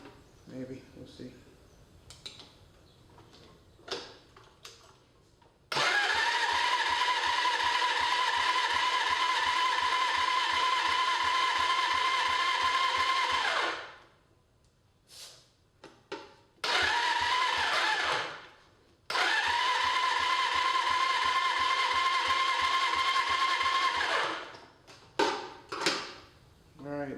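A Suzuki GS550 motorcycle engine cranks on the electric starter during a compression test, with a rapid steady churning and whine in several long bursts separated by pauses, close up, with talk between bursts.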